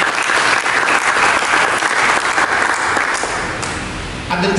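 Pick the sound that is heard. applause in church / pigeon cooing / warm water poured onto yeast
applause in church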